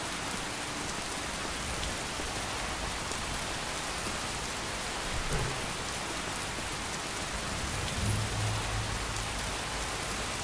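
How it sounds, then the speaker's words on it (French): Heavy rain falls steadily in the video game Skyrim, a dense continuous hiss of drops on surfaces with faint low rumbles underneath and no talking. "On s'entend plus avec la pluie."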